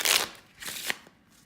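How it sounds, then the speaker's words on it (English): A pack of playing cards shuffled by hand, two quick riffling bursts close up with a short click between, no talking. "let's shuffle it again."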